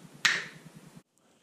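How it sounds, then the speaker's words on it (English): A single crisp finger snap lands close and loud against a soft background hum, then fades into near silence. "So when I snap my fingers,"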